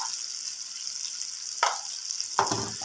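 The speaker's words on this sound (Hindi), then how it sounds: "अब मैं इसको अच्छी तरह मिक्स करूँगा और मसाले की अच्छी तरह बुनाई कर लूँगा।" Spices and turmeric being stirred in a cooking pot of minced meat with bitter gourd, with a soft sizzle underneath and two distinct scraping strokes of the spoon near the end, close and moderately loud.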